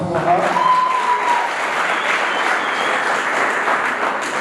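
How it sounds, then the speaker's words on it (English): An audience at a financial literacy debate breaks into loud, sustained applause with dense clapping that carries on at an even level throughout. "A big round of applause for her."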